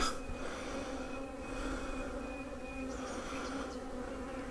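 Many honeybees buzz at an open hive in a dense, continuous drone, close by and steady, with a faint higher whine drifting through.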